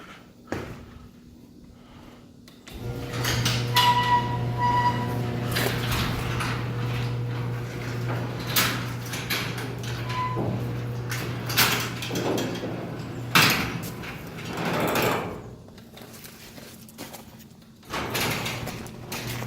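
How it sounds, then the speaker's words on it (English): A LiftMaster opener drives a newly installed residential garage door, giving a steady low motor hum and rumbling travel for about fifteen seconds before stopping, with clicks and a faint bump near the end. "We have our LiftMaster garage door opener in place."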